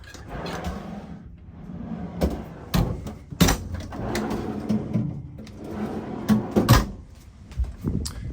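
Fridge doors aboard a 2022 Tiara 48 LS boat open and shut close by, a series of sharp thuds and latch clicks spread over several seconds, with rattling handling noise between them.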